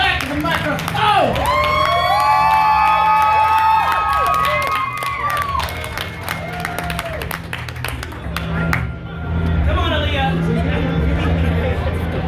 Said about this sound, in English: Let's get that applause rolling as we welcome King Xenon back to the microphone.